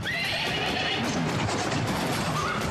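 A racehorse on a racecourse gives a sharp whinny at the start, then hoofbeats and a steady rushing roar continue.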